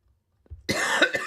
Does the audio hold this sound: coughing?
yes